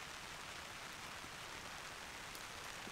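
Rain falls steadily on a campsite tent and tarp, a soft, even hiss of drops with no other sounds.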